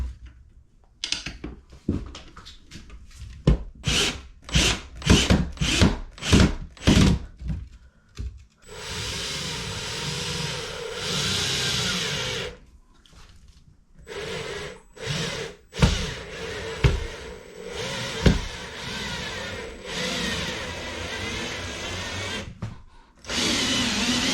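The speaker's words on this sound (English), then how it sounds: "I'm installing the last screw." A power drill drives screws to mount an extendable TV wall bracket, with a rapid series of short trigger pulses followed by longer sustained whirring runs and brief pauses, close and fairly loud, with no talking.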